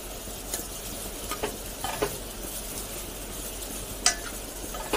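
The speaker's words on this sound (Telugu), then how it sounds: "మనం ఇలా వేయించుకునేటప్పుడు ఇలా కలుపుకుంటూ" Something frying in a pan while being stirred, a soft continuous sizzle with occasional light scrapes of a spoon, close and fairly quiet, with no voices.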